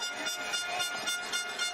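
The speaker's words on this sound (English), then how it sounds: "the idiots with the air horns treated everyone that was at the game last week" Air horns blare continuously in a dense, sustained honking wash from fans at a Winnipeg Blue Bombers football game, loud and steady throughout with no talk.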